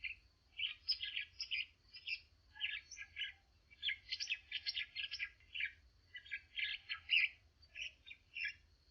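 A crow perched in a tree gives repeated harsh caws in short clustered bursts, fairly close and steady throughout, with no voices.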